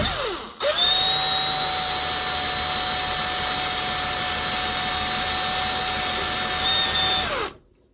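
A power drill drives screws into a satin nickel door lever. After a brief start it whirs steadily and close for about seven seconds, holding one sustained high whine, then spins down and stops.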